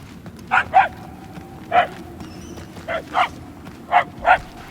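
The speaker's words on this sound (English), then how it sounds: "The yapping is getting louder" A dog yapping in the Guardians of the Galaxy game, short high barks in small bursts of one or two, fairly close, over a low ambient hum and with no talking.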